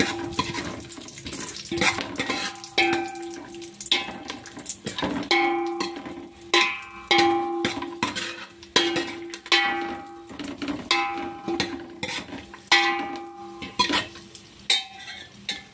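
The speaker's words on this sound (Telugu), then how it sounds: "ఇలా ఫ్రై చేసుకోవాలండి" Cashews and almonds frying in a pan, with scraping spoon strokes and clinks repeating in uneven bursts over a steady background sizzle, close and moderately loud, with no voices.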